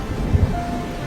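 Heavy rain falls steadily as a dense, constant wash, with two short low thumps of thunder rumbling early on and no voices over it.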